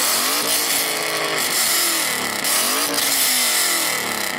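The engine of a BMW E39 M5 or Alpina B10 revs hard, loud and close. The pitch repeatedly rises and falls with a raspy, racing-car edge, and no voices are heard.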